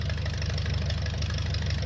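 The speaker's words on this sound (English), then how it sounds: "Let's see if this old tractor can pull it." An old tractor in Farming Simulator 19 strains to pull a grain cart, its engine a steady low, rumbling drone with a fast rhythmic knock, loud and close throughout.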